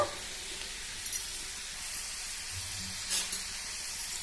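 Chana dal (split chickpeas) fries in hot oil with a steady, close hiss and crackle, broken by occasional faint stirring clinks and no talk.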